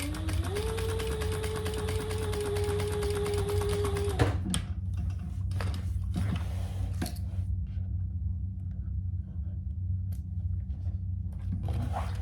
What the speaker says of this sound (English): Just snugly turn it to the right side and stitch right under that second slot.